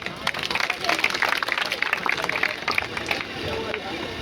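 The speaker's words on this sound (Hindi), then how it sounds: "तालियां बजाओ सब लोग एक बार" At a Hindi poetry recital, a crowd claps steadily in a dense, continuous patter. Scattered voices and crowd murmur mix in beneath the applause.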